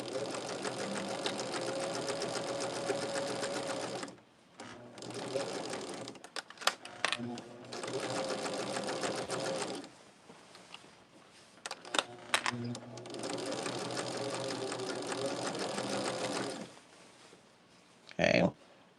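A sewing machine stitches quilt sashing in three long runs, each several seconds of steady motor hum, separated by brief pauses with small clicks and handling noises.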